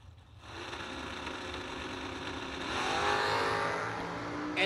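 Drag racing cars, including a Corvette Roadster, roar from an idle rumble into a hard, building, high-revving launch. The engine noise swells loud and stays sustained near the end, with no voices heard.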